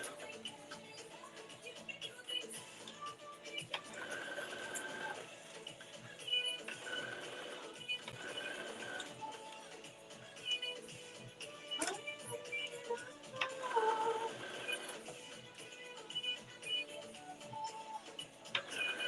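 A domestic sewing machine stitches a shoulder seam for a McCall's 8449 garment, running in a steady, faint mechanical whir with rapid ticking that speeds up and slows in several bursts.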